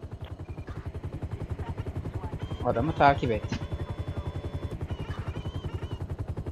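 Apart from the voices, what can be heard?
helicopter in video game GTA 5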